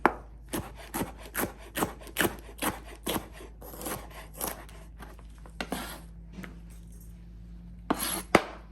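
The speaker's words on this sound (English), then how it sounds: "So you wanna cut everything, not too big, not too tiny, nice bite-sized slices, like so." A knife slices hot peppers into bite-sized pieces on a board, with crisp regular cuts at an even pace, then scattered slower strokes and a final few sharp chops, all close and clear.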